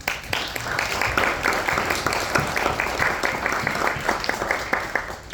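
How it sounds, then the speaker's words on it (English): Audience applause for a three-woman panel at a community changemakers spotlight event, a steady dense clapping that holds at even loudness throughout with no voices over it. "So one big round of applause for them."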